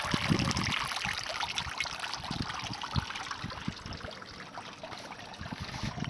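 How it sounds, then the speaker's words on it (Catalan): Water gushes from a homemade PVC pipe filter into a backyard fish pond after a stop valve is opened, a steady close splashing trickle with irregular gurgles and drips running without pause throughout. "I l'aigua comença a brollar."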